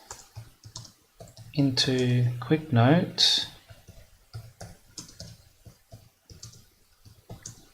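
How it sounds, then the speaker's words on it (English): Computer keyboard typing into a note app on an Ubuntu Budgie desktop, light irregular key clicks running steadily throughout, close and quiet, with someone speaking briefly over them. "I am typing"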